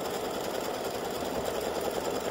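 An embroidery machine stitches a St Patrick's gnome design using old red-spooled thread, giving a steady, close, rapid mechanical whirring and needle chatter that runs evenly without pause.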